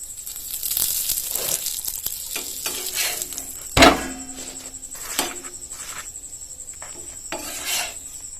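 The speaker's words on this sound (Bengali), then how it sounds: "একটা এরকম করে ভেজে নিয়েছি, তুলে নেব।" Atta paratha frying in oil in a pan: a steady close sizzle with scattered crackles and one sharp utensil knock partway through.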